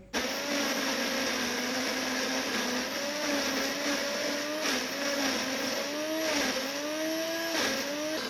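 An electric mixer grinder whirs steadily as it blends ginger pieces with water, a loud continuous motor whine that dips and rises slightly in pitch several times as the load shifts.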